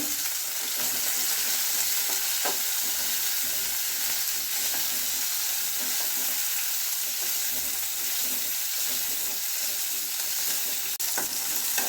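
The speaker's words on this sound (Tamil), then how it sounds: "ஓரளவுக்கு வெங்காயம் வதங்கியாச்சு." Onions and curry leaves sauté in a pan for Chettinad kara chutney, a loud steady sizzle with frying hiss throughout, occasional stirring scrapes, close and continuous.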